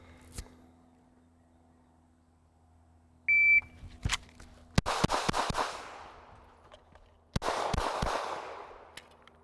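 A Shadow Systems CR920XL pistol fires two quick three-round strings from concealment at an outdoor range, each sharp crack ringing out loudly with a long echoing tail, preceded by a brief timer beep.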